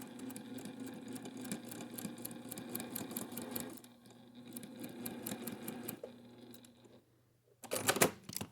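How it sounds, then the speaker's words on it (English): A sewing machine stitches across a folded quilt triangle for a square-in-a-square block, with a steady rapid needle rhythm that pauses briefly midway and again near the end before a short louder burst. "I'm ready to go ahead and go into the machine and stitch across."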